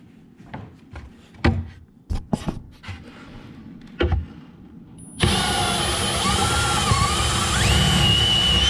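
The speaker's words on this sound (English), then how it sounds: "I'll put pressure down as I drill through." Power drill boring through wood while installing drawer slides, a few short taps and knocks first, then a steady loud whirring run with shifting pitch held to the end.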